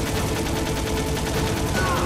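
Mounted machine gun fire in the video game Metal Gear Solid, with dense rapid bursts over a loud continuous background and a voice talking faintly underneath.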